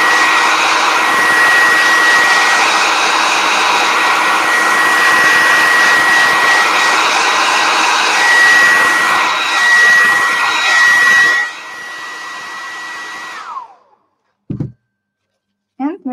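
A hair dryer blows steadily and loudly on a painted artwork, a continuous whooshing roar with a faint whine that cuts off near the end, followed by a few soft knocks.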